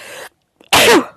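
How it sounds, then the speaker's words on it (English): A single loud, sharp sneeze bursts out close to the microphone after a brief pause, following a moment of quiet background noise. "I'm also going to have a sneeze."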